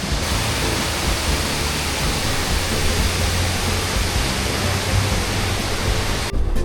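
Boonyaban waterfall in Ranong, Thailand roars as a steady, loud rush of falling water, constant and close throughout with no voices.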